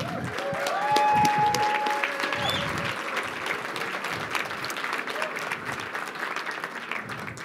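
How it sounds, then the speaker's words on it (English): An audience applauds award participants at a space symposium evening event, with steady loud clapping, a few whistles and cheers, and voices mixed in under the clapping. "Can we give them all one more round of applause?"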